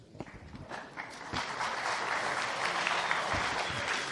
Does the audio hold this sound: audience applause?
yes